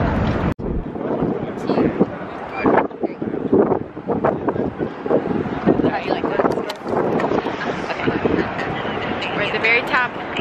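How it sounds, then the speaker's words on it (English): Strong wind buffets the microphone at the very top of a high rooftop lookout in New York City, a constant loud roar with gusts, while people talk close by. "It's very windy, but it's up here."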